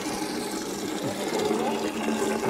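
Water runs steadily from an outdoor garden tap used for watering, a continuous close hiss and splash that holds without pause for a few seconds.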